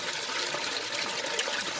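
Water pours out of an aquaponics U syphon and aerates as it falls, a steady, close, rushing gush with bubbling texture that continues without a break.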